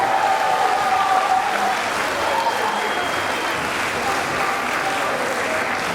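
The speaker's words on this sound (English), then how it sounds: "Another big round of applause for everyone that's performing in the concert tonight." An audience applauding at a Liberty Junior High and High School band Halloween concert, sustained steady clapping filling the hall, with faint crowd voices mixed in.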